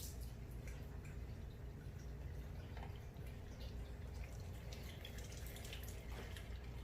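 Water poured into the cooling system of a Suzuki GSX-S1000 motorcycle during a coolant change, a steady close splashing, trickling wash with faint drips, continuous throughout with no voices.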